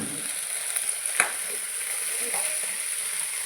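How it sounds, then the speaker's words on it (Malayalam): Chilli powder and turmeric sizzle steadily in a frying pan for a Kerala koorka thoran, with a constant hiss and a few faint scrapes of stirring over it. "നന്നായിട്ടൊന്ന് ഇളക്കി യോജിപ്പിക്കാം."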